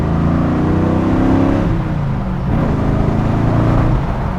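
A 1998 TVR Chimaera engine revs hard under acceleration, drops in pitch at a gear change partway through, then climbs again as it pulls back up through the gears, loud and close from inside the car.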